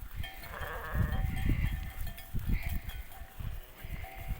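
A flock of grazing sheep, ewes and a ram, bleats close by while bells jingle and clank among the animals, with steady outdoor background noise.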